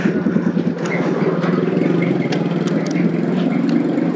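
Motorcycle engine idling close by, a steady low chugging throb with faint intermittent clicks and background street noise.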